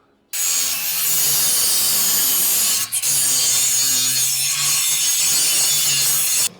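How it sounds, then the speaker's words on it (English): Grinding metal off the body of a 1972 Chevrolet Suburban gives a loud, steady, harsh whine close by. It runs almost unbroken for about six seconds, with one brief dip midway. "Let me grind that off."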